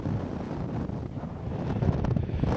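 Strong wind buffets the microphone on the coast near West Cape Light in a continuous low roar, gusting slightly louder toward the end.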